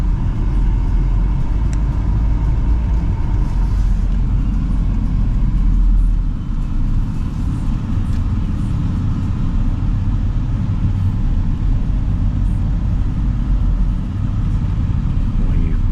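Steady low rumble of busy city road traffic in Kyiv, Ukraine, cars and heavier vehicles passing continuously nearby, with no clear voices.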